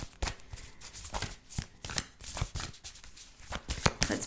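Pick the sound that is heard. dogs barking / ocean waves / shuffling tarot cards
shuffling tarot cards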